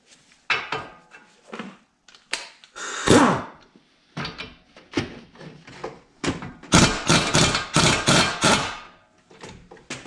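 A hammer strikes the steering knuckle of a 2011-2019 Ford Fiesta to push out the CV axle, a series of sharp metallic bangs, irregular at first and then in a quick close run.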